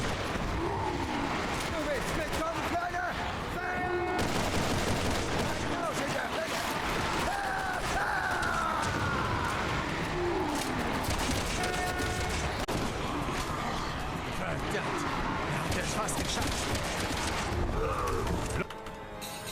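Gunfire in Resident Evil 6 during Leon's campaign: dense, continuous game combat with repeated shots, rumbling blasts and creature roars, loud and busy throughout, with a voice talking over it.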